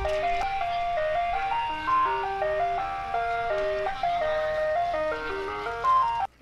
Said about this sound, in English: that little scene was all about with the ice cream truck